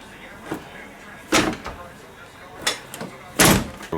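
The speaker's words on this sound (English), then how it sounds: "you want to close the doors and test both doors in the closed position" DeLorean gull-wing doors are shut: two loud, close, heavy slams a couple of seconds apart, with lighter latch clicks and rattles around them and a voice faintly present.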